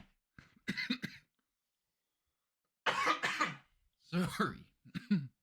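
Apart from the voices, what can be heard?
coughing fit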